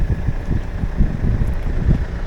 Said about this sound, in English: Sorry about the wind if it's blowing, jeez.